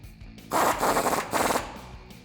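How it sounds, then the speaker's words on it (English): An impact gun tightens a 21 millimeter nut on a Ford F150 truck suspension while a leveling strut extension is installed, giving two short, loud rattling bursts close by. "grab our impact gun and tighten it down"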